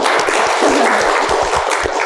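Lively audience applause at a broadcasting dialogue event in West Java, loud and dense clapping sustained through the whole short stretch.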